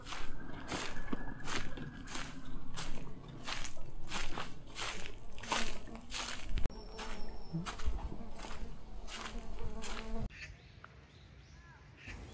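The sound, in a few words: mosquitoes buzzing in a bamboo forest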